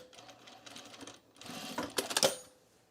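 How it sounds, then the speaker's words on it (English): A home sewing machine winding a bobbin gives bursts of rapid mechanical whirring and clatter that speed up and grow louder toward the end, close by and with no voices. "my machine sounds funny because it's winding a bobbin"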